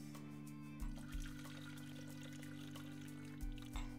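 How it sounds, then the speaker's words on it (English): Soaking water drained from nuts is poured into a kitchen sink, a short, quiet splash and trickle with a couple of brief gurgling surges, close by and with no talk. "So I'm going to actually be dumping that in my sink."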